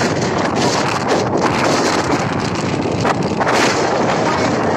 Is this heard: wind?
yes